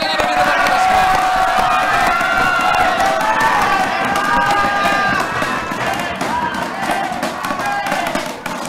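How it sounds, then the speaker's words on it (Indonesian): Audience at a public forum for Bandung mayoral and deputy mayoral candidate pairs breaking into lively applause and cheering, a dense, loud crowd roar of clapping and shouts that gradually thins toward the end. "kita berikan tepuk tangan yang meriah untuk seluruh pasangan calon yang ada di depan kita semua"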